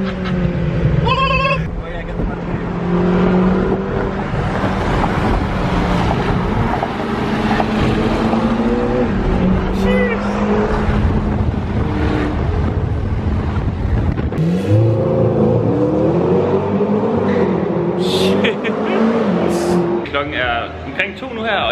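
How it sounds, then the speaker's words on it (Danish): A Lamborghini Urus engine drones and surges as the car is driven fast, heard from inside the cabin under continuous close conversation. "De andre, de har lige lejet en Lamborghini Uhu, så vi kører lidt om kampen, men den er meget hurtigere."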